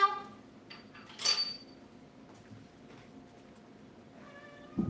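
A cat waiting for its food gives a few short, faint meows, with a louder one early on and another at the very end, over a quiet room.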